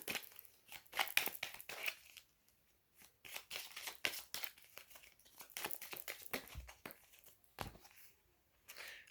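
Playing cards being shuffled by hand during a card reading, a run of quiet riffling and shuffling bursts separated by brief pauses, faint and close with no talking.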